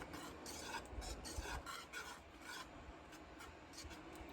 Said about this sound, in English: I'm going to stir this for a little bit.